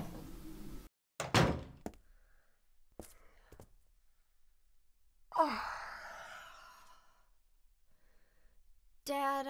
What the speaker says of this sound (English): I'm going to open up this door